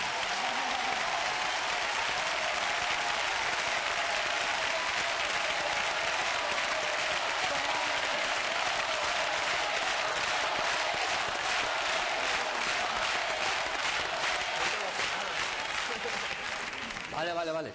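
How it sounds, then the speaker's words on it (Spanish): A studio audience gives a long, loud ovation, dense steady applause that continues unbroken for nearly eighteen seconds with faint voices underneath. "yo creo que la ovación va a ser muy grande"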